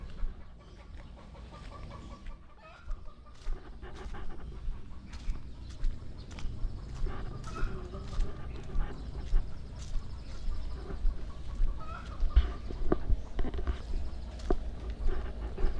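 Chickens cluck and squawk over a busy, noisy outdoor background, with scattered sharp calls and rustling throughout.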